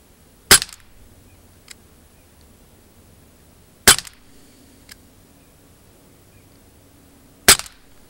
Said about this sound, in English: Four shots.